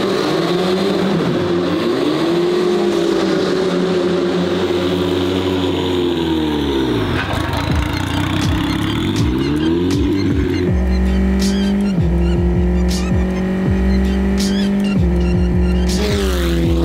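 Race cars set off for a first track session at the GP Explorer 2 event, engines revving and shifting through gears in long sweeping passes, loud and close, with tire noise and no talk.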